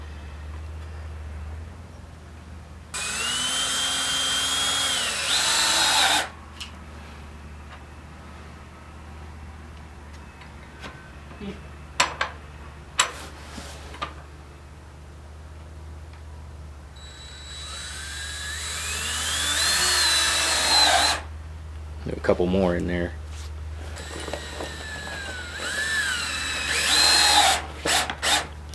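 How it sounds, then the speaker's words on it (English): A power drill bores pilot holes into wood while goat pens are built, in several separate bursts of steady high whine lasting a few seconds each, with brief clicks and handling noise between them and a few quiet spoken words. "drill your pilot holes"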